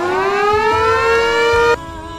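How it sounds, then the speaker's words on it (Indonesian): A civil defense siren set off by a button press wails loudly and steadily, its pitch slowly rising over about two seconds before it cuts abruptly to a quieter hum. "Dilanjutkan dengan penekanan tombol sirine."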